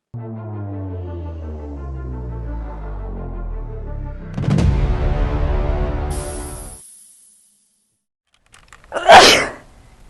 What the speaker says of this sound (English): That was a loud sneeze.